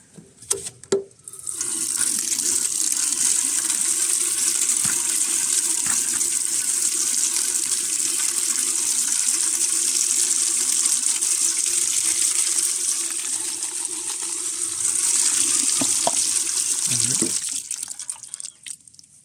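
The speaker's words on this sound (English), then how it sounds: "And then add in some water from this tote that we set up here for the rainwater." Rainwater pours from a rainwater tote into poultry feed, a steady, close gushing splash that runs unbroken for nearly the whole stretch and briefly swells near the end before stopping.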